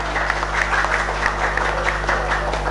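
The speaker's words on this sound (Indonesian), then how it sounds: "Sekali lagi tepuk tangan Bapak Ibu untuk semua calon kepala desa yang ada di depan." An audience at a 2020 village head candidates' vision-and-mission forum in Juwiring village, Cepiring district, claps steadily together in a dense, sustained round of applause in a hall, with a low electrical hum beneath.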